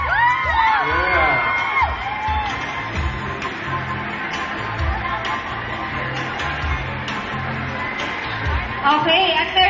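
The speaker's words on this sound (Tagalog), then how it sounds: "Lalakas nga ng mga tili eh." An audience at a kids' pageant grand finals screams and cheers loudly for a boy contestant named darling of the crowd, high shrieks and whoops swelling around an announcer's voice.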